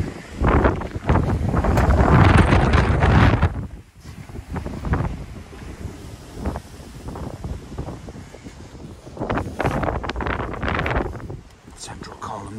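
Gusty outdoor wind buffets the microphone beside a 2018 Skoda Octavia vRS, coming in heavy rumbling bursts that swell loudest early on, ease, then rise again toward the end.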